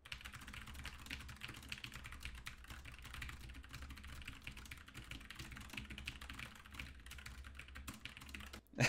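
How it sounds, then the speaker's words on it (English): Computer keyboard keys mashed in a rapid, continuous flurry of clicks during typing practice, faint and steady from start to finish with no talk. "That's just mashing keys."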